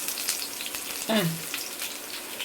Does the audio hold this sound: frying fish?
yes